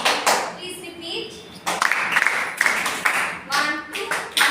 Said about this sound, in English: So, one clapping pattern is this